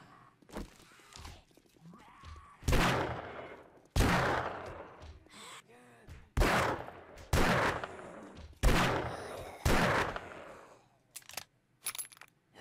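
Gunfire in the video game 7 Days to Die (Alpha 20), a series of about six loud, evenly spaced shots with decaying tails, separated by quieter gaps and light background game sounds.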